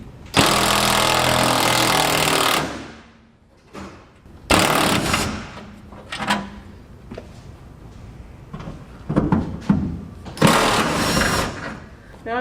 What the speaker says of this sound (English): I forgot I could reach the other two bolts with the impact.